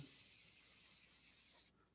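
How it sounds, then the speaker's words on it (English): Spray paint hisses lightly and steadily through a stencil in one continuous burst of under two seconds, then cuts off cleanly. "just spray a little bit in there like very lightly"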